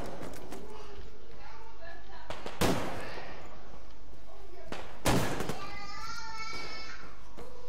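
Two loud, sharp gunshots from a firearm in the game Survarium crack out a few seconds apart, while someone talks over the play.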